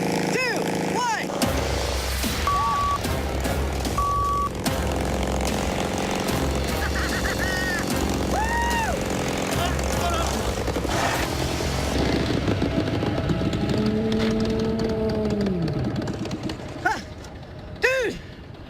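A motorcycle ridden in reverse gear revs and drones unevenly over a long stretch, with rising and falling engine pitch, a few honks, and excited voices talking and shouting over it.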